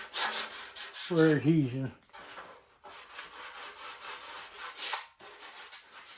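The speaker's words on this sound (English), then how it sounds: "I'm going to rough sand the flange just so when I do paint it, it has something to stick to" Hand rough-sanding of a 1972 VW Super Beetle fender flange makes repeated close rasping strokes in a steady rhythm, with a brief bit of speech near the start.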